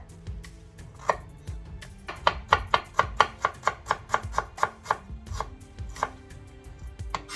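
A knife chops ginger and garlic on a cutting board for a Kerala dal and fish fry meal, first in a few scattered strikes, then a quick, even run of sharp taps, then slowing again.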